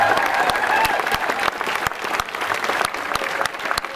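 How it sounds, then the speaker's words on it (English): Enthusiastic applause from a crowd at a welcome party in Kenmare town, sharp claps rattling steadily for club members, loud and close throughout. "So I think a big round of applause for these guys."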